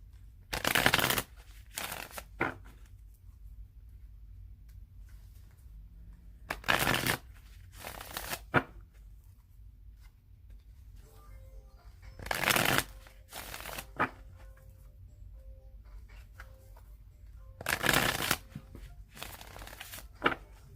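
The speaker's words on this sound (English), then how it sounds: "I'm going to shuffle it 3 more times" A deck of tarot cards is shuffled by hand in several short, crisp bursts of riffling and rustling, each separated by a few seconds of near silence, close and fairly quiet.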